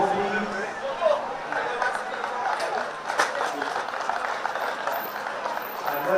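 Crowd applause at a cricket match prize presentation, steady clapping mixed with crowd chatter and a speaking voice.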